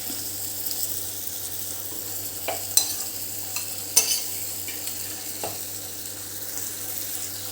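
Boiled chickpeas are tipped into a pan and stirred for dry chole, with light scraping and sizzling throughout and a few sharp clinks from the spoon against the pan.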